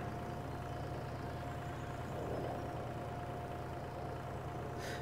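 Small tractor engine in Farming Simulator 22 running steadily at a low idle-like drone, even and continuous, with no talk over it.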